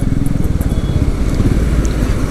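Royal Enfield Meteor 350 motorcycle engine thumping while being ridden, a loud, close, steady low pulsing beat without talk.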